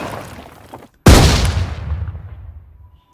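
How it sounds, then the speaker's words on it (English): A single grenade explosion bursts suddenly after a quieter rumbling lead-in, a sharp, heavy boom whose deep rumbling tail slowly fades over the next two seconds. "Oh, I've got some grenade sounds as well."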